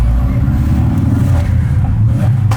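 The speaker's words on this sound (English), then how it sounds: "It's the one thing I hate most about this car, is that noise that comes out of the exhaust pipe." Ford Focus RS exhaust rumbling as the engine revs, a loud, close, continuous low drone heard from inside the car and holding steady for a couple of seconds.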